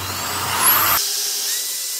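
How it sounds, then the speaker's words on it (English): A power drill bores pilot holes into a wooden interior window frame for a travel trailer window AC mount, giving a loud whirring burst that stops abruptly after about a second, then faint room tone. "we'll drill those pilot holes"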